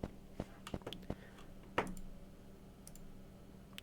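Mouse clicks sound while lettuce is cut in a sandwich shop simulator game: scattered sharp clicks, some quick, some spaced, with one louder click-thud near the middle, quiet and close.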